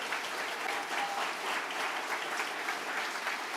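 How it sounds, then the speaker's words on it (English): A rally crowd in Neenah applauds steadily, dense clapping filling the space evenly from start to finish with no pauses and only faint traces of voices underneath. "Give yourselves a round of applause for coming out tonight."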